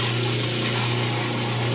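A full pot of water is poured down a garbage disposal drain to flush out spent slime, giving a steady, loud rush of splashing water with a low mechanical hum beneath it throughout.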